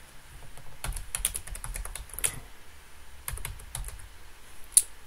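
Computer keyboard typing during accounting software entry, quick irregular bursts of light key clicks with short pauses, close and fairly quiet.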